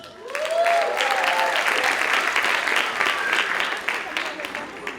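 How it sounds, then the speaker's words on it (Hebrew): An audience at a school graduation ceremony breaks into applause to welcome a performer, a full, sustained roar of clapping from a large crowd, with a brief rising whistle near the start. "אז בואו נקבל במחיאות כפיים גם את מרגול"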